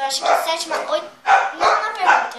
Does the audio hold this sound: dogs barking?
yes